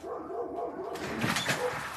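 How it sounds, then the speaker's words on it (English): A neighbor's dog barks and yips outdoors at a moderate distance, a few rough barks rising midway over a noisy background. "The neighbor's dog is out."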